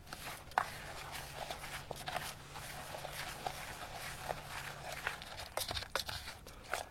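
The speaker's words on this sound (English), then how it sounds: "I'm just going to stir this up until it becomes a dry, crumbly mix" Margarine being stirred into flour by hand, building a dry crumbly mix, with soft scraping, crunching and crinkling strokes in an irregular rhythm, close and quiet.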